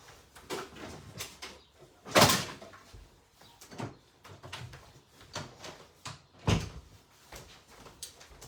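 An indoor door is shut, giving two sharp knocking thuds several seconds apart. Quieter rustles and handling noises fill the gaps between them.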